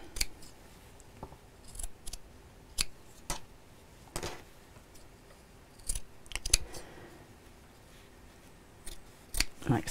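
Scissors snip fabric shapes for a messenger bag in a series of distinct close cuts at an irregular pace, with quiet gaps between snips.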